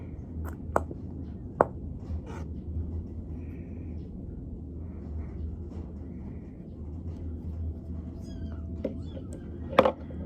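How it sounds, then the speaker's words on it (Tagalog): A cat meows faintly a few times in the background of a room while someone makes slime, with short clicks and knocks nearby and a louder cry near the end. "may umiiyak na pusa"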